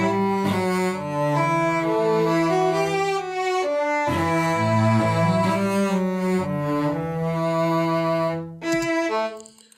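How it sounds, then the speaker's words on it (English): Sampled first-chair violin and first-chair cello from LA Scoring Strings play together in a medieval-style cinematic theme, the violin melody over the cello line, with sustained, legato notes moving steadily and clear, without any voices. "they're both from LA Scoring Strings, first chair violin and first chair cello"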